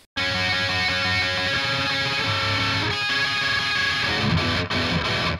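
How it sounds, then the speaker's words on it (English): Distorted electric guitar solo from a song, playing continuously and loud with sustained, effects-laden notes and a couple of brief cuts near the end. "And then this, I guess you could call it a solo, comes in, and it sounds like this."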